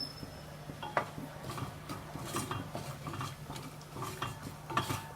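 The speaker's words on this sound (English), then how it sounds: "Saute it on low flame." Ready-made MTR puliyogare mix is sautéed in hot oil on a low flame. A metal spoon clinks and scrapes quietly against the pan in scattered taps over a soft, steady background.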